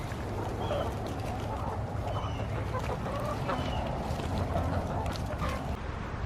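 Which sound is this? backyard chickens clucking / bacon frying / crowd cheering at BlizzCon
backyard chickens clucking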